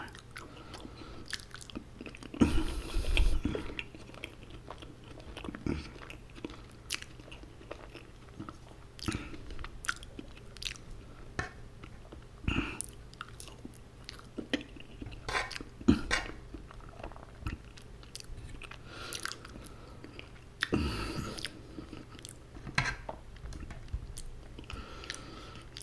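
Someone eats steak and mashed potatoes at close range, with wet chewing, occasional crunchy bites and scattered louder bursts and mouth noises over a quiet background and no talking.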